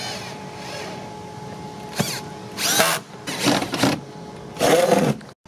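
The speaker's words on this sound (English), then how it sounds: "Just go ahead and screw the door panel screws back in." A power drill drives door panel screws back into the door of a 2002-2008 Dodge Ram, with several close whirring bursts of varying length and brief pauses between them.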